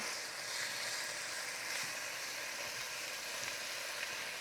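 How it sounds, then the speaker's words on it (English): Bacon sizzles in a pan, a soft, even hiss with faint crackles, fairly quiet and steady throughout with no speech. "You can start hearing a bacon sizzle now."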